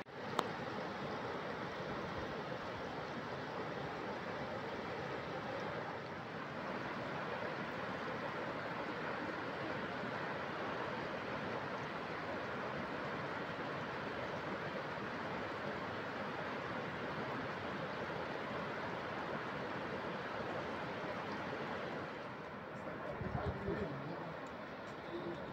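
The Şarlayan waterfall rushes steadily as broadband water noise, faint and distant, with a brief low rumble near the end.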